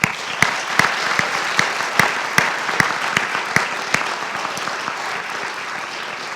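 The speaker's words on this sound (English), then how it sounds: "I'd like to take a moment to give a round of applause to all the supporting members" Applause at a school athletic awards ceremony, with a wash of clapping punctuated by sharp, evenly spaced individual claps that stand out in a regular rhythm before thinning slightly toward the end.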